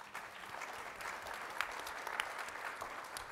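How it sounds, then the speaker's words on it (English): Audience applause greets a panel at an economic mobility and social capital forum, a steady wash of clapping from a large room, fairly faint and distant, with a few sharper claps standing out. "Big round of applause for our next panel"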